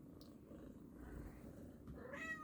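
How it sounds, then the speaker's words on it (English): A cat purrs and rubs against a camera stand, a quiet low rumble close to the microphone with brief rustling bumps and a faint higher meow-like sound near the end. "my cat is rubbing on the stand"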